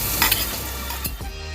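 Finely chopped garlic hits hot oil with a pinch of asafoetida for dahi bhindi masala, giving a brief bright sizzle with a couple of quick stirring scrapes close by, and no talking.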